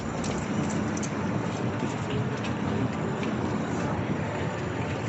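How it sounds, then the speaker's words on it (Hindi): Steady light rain drizzles at night on the way to the Haram, a soft continuous hiss of drops on the ground with faint patter throughout and no voices. "बूंदाबांदी हो रही है"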